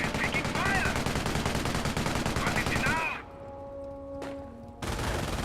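Dense, continuous rattling gunfire from small arms and machine guns in the World War II strategy game Company of Heroes runs loud for about three seconds, drops to a brief hum with one crack, then resumes.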